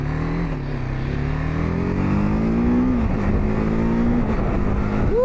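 A TVS Apache RTR 310 motorcycle pulls away from a green light, its engine note rising steadily through the gears with a brief dip at a shift and a sharp climb at the end, close and loud.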